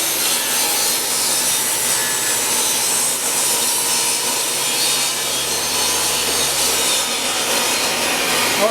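Handsaw cutting through a spare piece of plywood, a continuous rasping stroke-by-stroke scrape at close range, steady and loud, with no voices.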